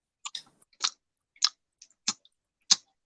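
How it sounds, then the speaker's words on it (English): Open-mouthed chewing, six distinct wet, smacking bites spaced about half a second apart, close and clear against silence. "That chewing with your mouth open."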